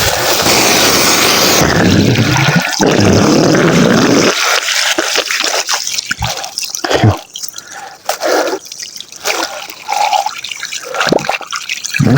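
Water escaping from a broken irrigation pipe in a garden plot, first a loud steady rushing spray, then irregular drips and trickles with handling noises close by.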